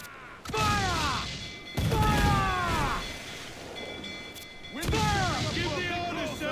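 Cannon blasts in a pirate sailing game, three heavy booming volleys spaced a couple of seconds apart, each with a long rumbling tail, while voices shout over the battle.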